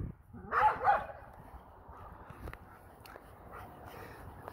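Neighborhood dogs bark and yip twice in quick succession early on, moderately near, then a low background rumble with faint clicks continues without further clear barking.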